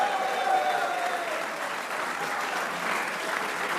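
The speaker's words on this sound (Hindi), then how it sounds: "आला कारकर्दगी पे शादाब के लिए भी तालियां होनी चाहिए" Audience applause for Shadab after a cricket performance, a dense, steady wash of clapping from a crowd that holds evenly through the moment with no break.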